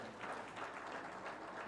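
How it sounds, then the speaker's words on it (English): Faint, steady applause from an audience at a health program learning event, a soft continuous wash of clapping heard from a distance. "I think she deserves another round of applause."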